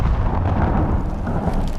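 A huge explosion as a silent flash strikes a palace above a city, a dense, sustained roaring blast with heavy low rumble filling the whole stretch, loud and close.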